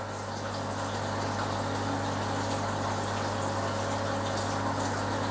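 Cold water rushes steadily through a pipe past a partly closed ball valve, a continuous even hiss and gush that holds at one flow rate from start to end.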